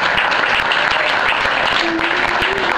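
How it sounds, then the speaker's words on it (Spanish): Loud, close crowd applause for Rocío, the sound engineer, at a Christmas club gig: thick continuous clapping that holds steady from start to finish. "Un aplauso para Rocío."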